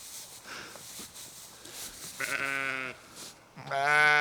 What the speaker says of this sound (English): Luckily, these are Katahdin sheep, so the ram don't have horns.